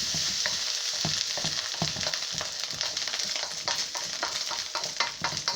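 Food sizzles and fries steadily in a pan while being stirred and charring slightly, with repeated scraping strokes over a constant loud hiss and no voices.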